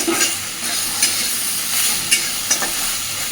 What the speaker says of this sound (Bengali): মিনিট 2-3 সময় নিয়ে কচুরলতিটাকে একটু ভেজে নেব।